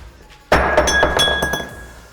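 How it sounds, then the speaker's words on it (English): A drinking glass tipped off a shelf strikes an epoxy surface with one sharp, loud clink and thunk, followed by a ringing glassy tone that slowly fades. "I'll just tip it off of there, let it hit the surface. It's gonna break and we'll see what it does to the epoxy surface."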